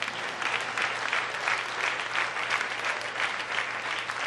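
A church congregation applauds in a sustained wash of clapping with a low steady hum beneath, moderately distant and even throughout, with no voices over it.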